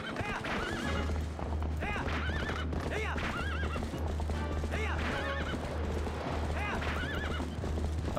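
Horses in the Zelda game Twilight Princess whinny repeatedly over steady clip-clopping hooves, a loud galloping mount amid game effects and music, with someone talking over the action.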